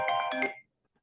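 A phone ringtone plays a short bright melodic burst of about half a second, then cuts to near silence.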